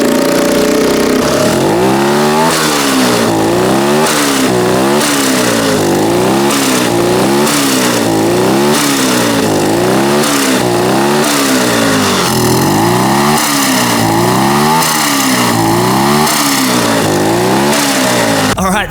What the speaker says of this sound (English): success, we have our turbo flutter